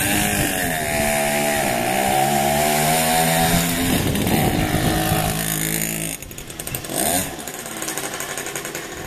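A Karpaty moped's small two-stroke engine, recently fully restored, runs close and loud with a buzzing, raspy drone that rises in pitch as it revs, then drops sharply and sputters back up to a rougher idle.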